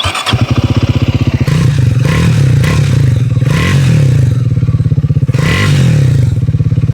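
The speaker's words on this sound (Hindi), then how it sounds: "साथ ही साथ देखते हैं कि इसका एग्जॉस्ट नोट कैसा है।" Triumph Speed 400 or Bajaj Dominar 400 motorcycle, a 400cc single, idling with a steady thumping exhaust note and a few throttle blips, loud and close, with no talking.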